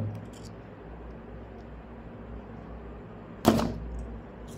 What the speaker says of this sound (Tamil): ஒரு வழியாக சீலை கட் பண்ணியாச்சு, சீலை உடைச்சாச்சு